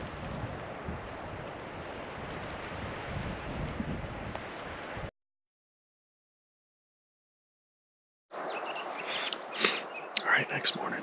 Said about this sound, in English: This wind is a real pain in the ass.